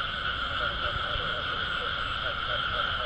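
A dense chorus of frogs croaking in rice fields at night early in the rainy season, continuous overlapping calls forming a steady pulsing drone, moderately loud with faint low rustling beneath.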